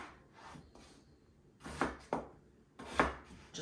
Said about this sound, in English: I want to cut these potatoes all the same size so they'll cook